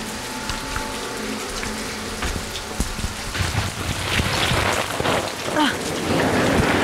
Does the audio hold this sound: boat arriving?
no